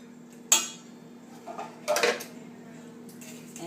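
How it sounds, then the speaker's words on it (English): Pumpkin pie filling is mixed in a bowl, giving a few separate clinks and scrapes of a utensil against the bowl amid a quiet room hum. "I'm going to go ahead and add in my pumpkin. See if we can get that all out. A little bit left. And give it a nice mix."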